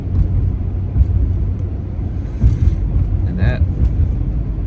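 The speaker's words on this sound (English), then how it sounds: "I'm just driving back to the campground right now" Steady low rumble of a car driving along a road in Michigan, heard from inside the cabin, with someone talking briefly over the engine and road noise.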